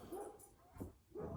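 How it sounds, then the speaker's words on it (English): A dog barks at a cat in a few short, yippy bursts, quiet and slightly distant, with a faint whimpering edge between barks. "now he's barking at the cat"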